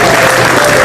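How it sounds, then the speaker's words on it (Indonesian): Audience applause at an Indonesian comedy talk show, a loud, dense burst of clapping that fills the brief moment. "Oke, tepuk tangan untuk Cici Panda."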